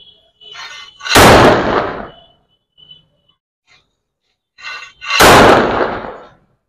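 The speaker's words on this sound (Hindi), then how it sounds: "आप लोगों ने देखा कि काफ़ी अच्छा धमाका हो रहा है इससे" A sulfur and potash powder mix goes off in two loud, close blasts a few seconds apart. Each blast is preceded by a brief hiss and followed by a sharp, booming crack that rings out and fades in otherwise quiet surroundings.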